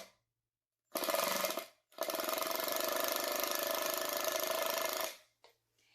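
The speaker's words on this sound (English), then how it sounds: "That sound that you were hearing is a classic sound of an impact driver." A Ryobi impact driver sinks a thick screw into a pre-drilled hole, giving a short burst and then a sustained loud hammering rattle for about three seconds, with no talking.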